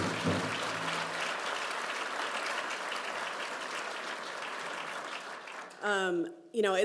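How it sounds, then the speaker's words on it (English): An audience applauds at a U.S. Department of the Interior farewell address, with sustained, even clapping for about six seconds before a speaker's voice comes in over the fading end. "let's give everybody a round of applause for that incredible service"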